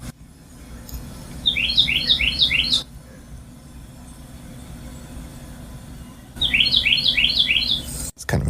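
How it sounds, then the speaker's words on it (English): In a morning backyard beside a farm in St. Cloud, Florida, a bird gives two bursts of quick, bright repeated chirps, several seconds apart, over a low background hum. "You might be able to hear some happy birds."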